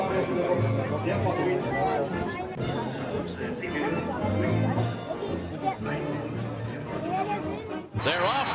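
A racecourse crowd at the Grand Prix of Berlin on a sunny, breezy day fills the air with steady, dense chatter and murmuring voices, with scattered laughter and close talk throughout.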